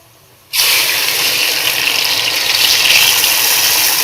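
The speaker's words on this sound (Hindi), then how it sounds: "तो अब हम इसके अंदर दूध डाल देंगे।" Milk pouring into browned khoya in a pot for a degi zarda mutanjan dessert, a steady liquid gush that starts abruptly and keeps up loudly and evenly with no talk.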